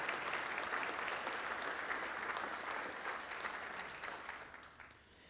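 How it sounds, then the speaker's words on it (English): Audience applauding at a public safety awards ceremony, a dense steady round of clapping that holds for several seconds and then tapers off toward the end. "let's give her another round of applause for everything that she's accomplished"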